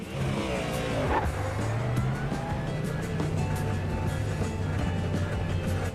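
A race car engine in a sim racing game holds a steady, droning note with slight shifts in pitch, loud and continuous throughout with no voice over it.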